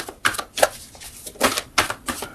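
Tarot cards being cut by hand, a few quick papery riffles and soft slaps in short bursts, close and crisp with brief pauses between them.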